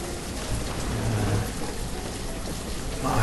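Steady rain falls in the Banished city-building game, a dense continuous hiss that fills the scene at an even level with no voices over it.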